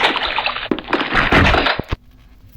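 Water splashing and sloshing in Minecraft, a dense burst of splashes over about two seconds, then stopping abruptly into near silence.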